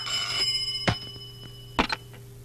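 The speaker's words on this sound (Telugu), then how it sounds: "ఫోన్ మోగుతోంది కదరా" A telephone rings indoors in two short, sharp bursts about a second apart over a steady electrical hum, with no voices.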